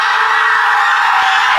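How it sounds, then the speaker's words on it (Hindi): Loud, piercing scream ringing through a room, a single sustained high-pitched cry at full intensity that holds for its whole length with no pause. "एक जोरदार चीख कमरे में गूंजी"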